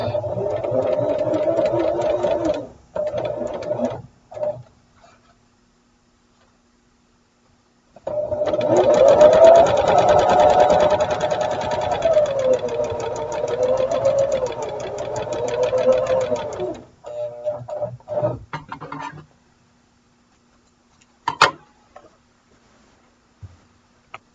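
A domestic sewing machine runs in bursts while quilting along the outside edge of a quilt, with a steady rapid stitching whir, a short stop, then a longer run of about eight seconds and a few brief taps, close and alone.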